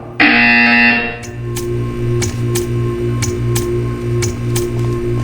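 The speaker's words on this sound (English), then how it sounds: "You will hear a buzzer." A loud electronic buzzer in Portal 2 blares for about a second, then a steady hum continues with a regular ticking pulse.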